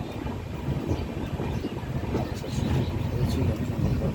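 The Darjeeling Mail passenger train rumbles into Haldibari station at moderate distance, a low rolling clatter that grows slightly louder, with faint voices mixed in.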